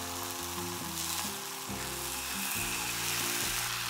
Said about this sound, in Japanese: ウインナーを端に寄せ半分に切ったとろけるチーズを焼きます。